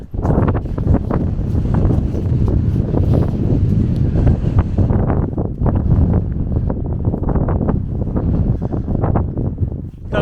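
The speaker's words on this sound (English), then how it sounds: "It's raining again, windy, raining." Strong wind buffets the microphone during a rainy walk outdoors on the Isle of Harris, a steady, loud roar with gusty surges that continues for the whole stretch, with no talking.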